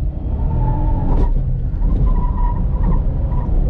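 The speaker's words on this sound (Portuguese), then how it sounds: "0 a 100, muito rápido. Pneu queimou, pneu tá carequíssima." A Volkswagen up! TSI on badly worn, bald tires is driven hard, its engine roaring loudly and steadily throughout with a rough, continuous tire and road noise that suggests skidding wheelspin.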